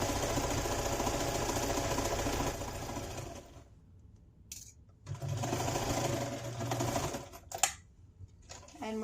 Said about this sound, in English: sew 1/4 inch, seam allowance all the way down to the opposite side